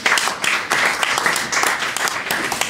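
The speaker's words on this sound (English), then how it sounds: "Let's give Samet a round of applause" A podcast audience gives a continuous round of applause, steady and fairly close, with dense overlapping claps throughout and no voices above it.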